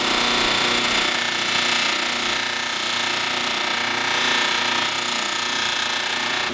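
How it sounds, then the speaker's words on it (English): A powered buffing wheel polishes a leather knife handle with buffing compound, a loud, continuous motor whine and abrasive hiss at close range that holds steady throughout. "Now we have to polish the leather. This is a special buffing compound meant for that."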